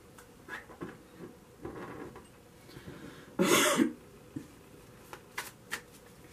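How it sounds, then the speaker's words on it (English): A single close, loud throat clearing cuts through quiet rustling and faint tapping noises. "I do apologize. I clear my throat."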